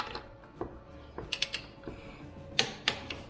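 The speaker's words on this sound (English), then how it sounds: "Time for the larger torque wrench. Let's go ahead, torque these down." A large torque wrench tightens motorcycle rear brake bolts to 40 Nm, giving close, quiet ratcheting clicks in short irregular bursts, with a couple of sharper snaps near the end.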